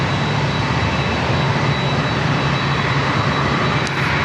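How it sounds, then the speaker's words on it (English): A NetJets Cessna Citation business jet arriving at San Diego airport from SFO, its engine roar steady, broadband and loud throughout, with no voices. "So that's the citation."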